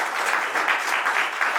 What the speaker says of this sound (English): ask that you all give these candidates a hearty round of applause